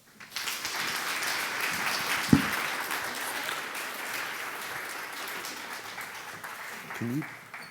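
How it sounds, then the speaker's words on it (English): Sustained audience applause in a school hall welcomes a guest speaker, steady dense clapping from a crowd lasting several seconds, with a faint voice emerging near the end. "we welcome Richard GERVER with a round of applause"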